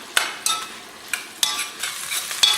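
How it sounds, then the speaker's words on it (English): Jalapeño peppers and other vegetables sizzle in a pan while a spoon scrapes through them in a few quick, separate strokes over a soft continuous frying hiss. "we're going to stir this in and cook it until it becomes translucent"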